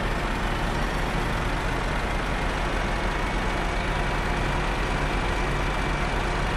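Ausa 150DH dumper engine from Farming Simulator, a steady, loud diesel drone running continuously without breaks, close and full-bodied with a constant low rumble.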